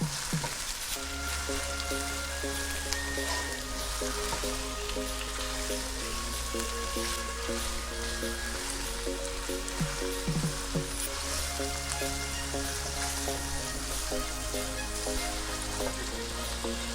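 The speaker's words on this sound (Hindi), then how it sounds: "ये मैं इसमें डाल दूंगी और इनको कलर चेंज होने तक मैं भून लूंगी" Mutton pieces frying in a pot, a steady dense sizzle close by with occasional stirring scrapes, accompanied by a low sustained background hum that shifts in pitch.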